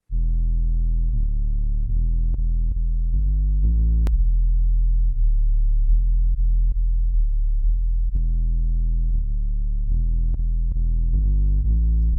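Sub bass synth with a Culture Vulture distortion plugin switched on and off, alternating between a pure deep sine tone and a brighter, grittier, mid-focused version, sustained notes in a steady musical pattern throughout.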